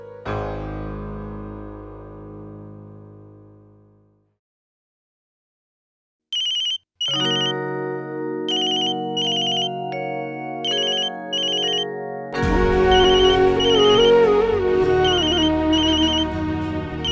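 A phone rings unanswered during a call to someone's mother, a melodic ringtone starting after a fading tone and a silent gap, repeating in bursts with bright chiming accents and growing fuller toward the end.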